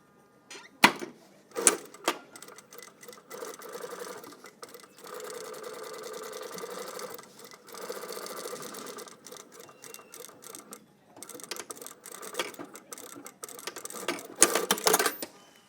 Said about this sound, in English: And then I stitch from here.